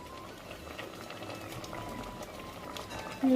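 Potatoes simmer in a pot with garam masala, a soft, steady bubbling close by, with faint voice-like tones in the background and a louder sound near the end.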